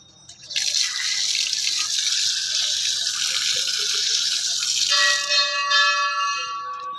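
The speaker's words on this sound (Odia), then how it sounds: "ଟିକେ ଗୋଡ଼ ଧୋଇଦେବା ଆଉ।" Water gushing steadily from a tap at a temple while feet are washed, a loud continuous splash with a bell ringing over it toward the end.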